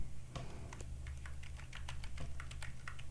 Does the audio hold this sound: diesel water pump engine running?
no